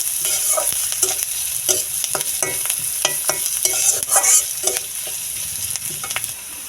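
Onion with garlic, ginger and cumin paste fries in a pan for chicken pasta, a continuous close sizzle punctuated by repeated spoon scrapes and clicks as it is stirred.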